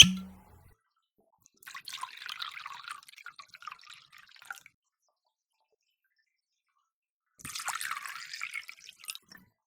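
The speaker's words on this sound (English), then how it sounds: "We're gonna add 1 ounce of Carpano Antica." Carpano Antica sweet vermouth is poured into a cocktail in two short bursts of gentle liquid trickle, close and fairly quiet, with silence between the pours.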